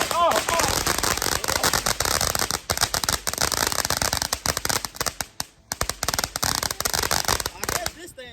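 Firecrackers and fireworks pop and crackle in dense, rapid strings at a Fourth of July celebration in Arizona, loud and close, with people talking over the bursts.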